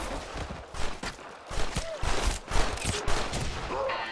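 Repeated gunfire in a Red Dead Redemption online free-for-all shootout on PS3: a run of sharp shots in irregular bursts over about four seconds, loud and close, with faint voices and some game sound mixed in.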